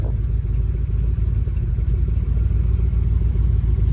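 A 1969 GMC C10 Custom pickup truck engine idles with a steady low rumble, close and loud, with a faint repeating tick above it.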